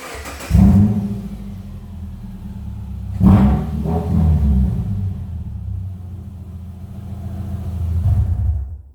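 Rough, rumbling engine of a 2008 Subaru Impreza with a leaking exhaust and raspy exhaust note, revving twice then settling into a loud, uneven idle that swells again near the end.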